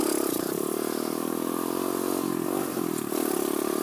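A pit bike engine revs hard and continuously while its wheel spins in Florida sand, a loud buzzing drone with grit clattering and a brief dip in throttle before it surges again.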